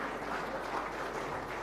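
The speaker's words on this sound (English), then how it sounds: "Please give them a round of applause to the students." A round of applause for four student helpers at a public forum with the Andhra Pradesh chief minister, a steady wash of many hands clapping from a crowd, fairly distant and even throughout.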